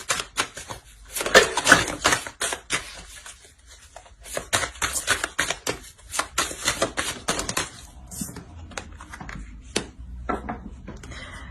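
Tarot cards being shuffled, a rapid run of crisp riffling flicks and taps that come in dense bursts, loudest early on and then continuing in lighter, uneven patters close to the listener.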